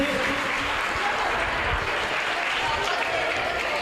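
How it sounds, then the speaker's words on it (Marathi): Audience applause at a live event with a song performance, a dense, continuous clatter of many hands clapping at a steady level, with voices mixed in. "जोरदार टाळ्या या सगळ्याच मुलांसाठी आपण वाजवूयात"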